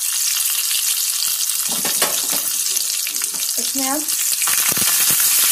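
Long-cut green chillies hit hot oil seasoned with a pinch of asafoetida, tempering for rawa dhokla, giving a loud, steady close sizzle throughout, with a short spoken phrase in the middle.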